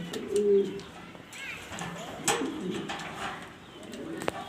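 Pigeons at a pigeon exhibition giving soft, low cooing calls in short bursts, close by and faint, with scattered rustles and brief clicks in the background.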